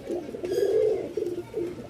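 Nearby pigeons at a pigeon farm give low, throaty coos in a few rolling bursts, with no talking.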